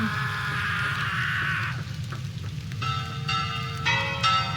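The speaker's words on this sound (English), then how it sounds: "They have the cathedral warning bells" Cathedral warning bells from a sound effect toll in clear, resonant strikes over a steady rain-like hiss, a low droning tone fading before later strikes ring out loud and sustained.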